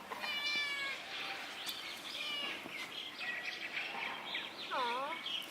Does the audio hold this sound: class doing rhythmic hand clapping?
no